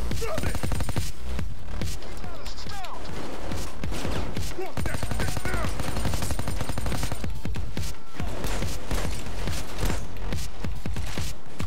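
Assault rifle fire in Payday 2 crackles as dense, rapid bursts, loud and close, with shots packed almost continuously across the whole stretch and only brief gaps between volleys.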